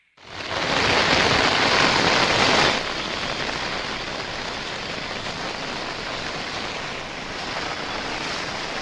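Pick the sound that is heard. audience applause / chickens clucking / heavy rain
heavy rain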